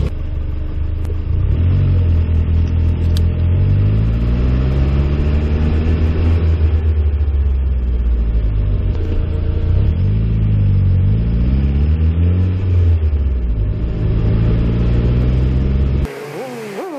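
A Nissan 240SX's KA24E engine idles close and loud after a head gasket replacement, its pitch rising and falling through several slow revs before it settles, then cuts off abruptly near the end.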